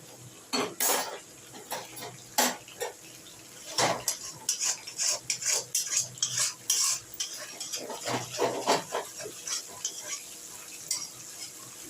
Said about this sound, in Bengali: এবার মাংসটা এরকম করে ভেজে নেবেন